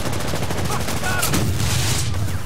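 Rapid gunfire rattles in Medal of Honor online multiplayer, a dense fusillade of loud, close shots in a fast continuous burst, with a player's voice talking over the shooting.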